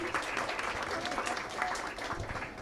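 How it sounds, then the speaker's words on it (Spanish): An audience applauds steadily and evenly throughout, a dense, continuous clapping from a crowd at a talk on bioacoustics, with no speech over it. "Un aplauso para Eliana."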